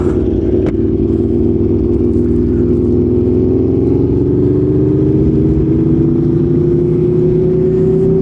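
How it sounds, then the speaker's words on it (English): Modified Aprilia Tuono V4 1100 Factory motorcycles riding on suburban Miami roads, their engines a loud continuous drone that climbs gradually in pitch as they accelerate. "I'm sure they're gonna enjoy the sound of these bikes when we pull up."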